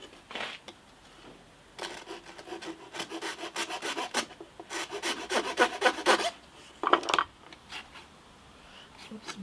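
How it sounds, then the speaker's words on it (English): A brand new Iwasaki rasp files wood in rapid back-and-forth rasping strokes, close and fairly loud, in two bursts of several seconds with a short quiet spell and a final brief scrape. "Time for my brand new Iwasaki rasp."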